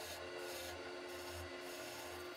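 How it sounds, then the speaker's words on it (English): Quiet rhythmic scraping of sandpaper rubbed back and forth over wood, several short strokes in a steady pattern, close and faint. "now we'll sand this up"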